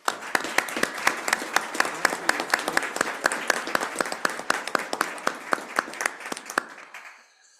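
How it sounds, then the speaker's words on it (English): Applause from an audience at a board meeting, steady dense clapping with sharp individual claps standing out, sustained for several seconds before tapering off at the end. "I would actually like to give a round of applause."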